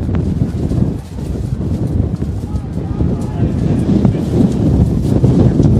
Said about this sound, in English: Comes another one of those wind gusts.